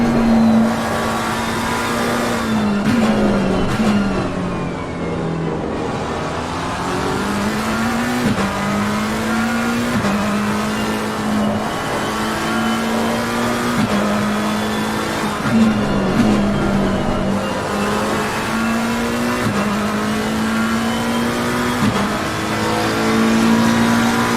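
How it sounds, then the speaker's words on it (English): A McLaren race car's engine roars onboard in a racing video game at Misano, a loud continuous high-revving drone rising and dropping with repeated gear shifts and braking, heard alone without talk. "Go on board with Reynolds in the McLaren here."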